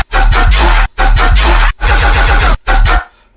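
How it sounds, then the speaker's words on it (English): Heavy, distorted bass from an electronic track breakdown, played alone in four loud, gritty sustained phrases separated by short gaps, with a pulsing low-end texture. "then we have the bass that sounds like this"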